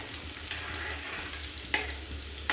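Garlic cloves and asafoetida frying in hot oil for a monsoon leafy-greens dish give a steady close sizzle, with a couple of sharp crackling spits near the end.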